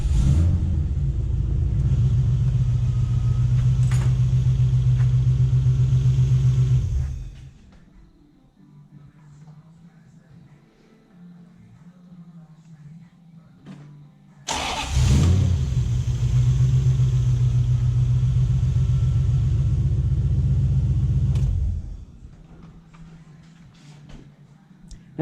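A Toyota Hilux with a swapped-in 1UZ V8 engine cranks and settles into a loud, deep idle, cuts off into quiet, then restarts with a sharp burst and idles again before shutting down once more.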